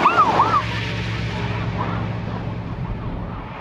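A wailing ambulance siren rises and falls as it passes, fading into the distance under the steady rumble of road traffic.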